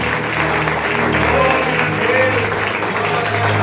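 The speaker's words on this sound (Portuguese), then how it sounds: "Você pode aplaudir Jesus pelo que você tem?" Clapping rises from a church congregation, an even, continuous patter heard over a steady musical drone, moderately loud and sustained throughout.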